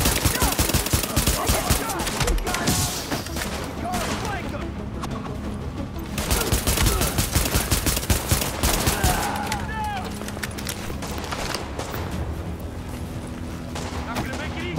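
Rapid gunfire from a squad shootout in the video game The Division on a Brooklyn street, dense volleys of shots and bursts filling the whole stretch, with a voice talking over parts of it.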